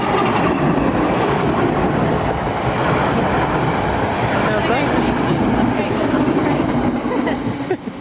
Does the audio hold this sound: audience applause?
no